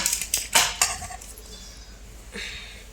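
Metal spoons clink against plates and dishes during a home meal of pasta, a few sharp clatters early on, then quieter scraping, close by.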